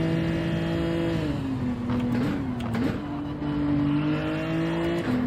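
A Genesis G70 in a racing video game holds a steady high-revving engine drone, with brief dips and shifts in pitch midway, loud and constant throughout.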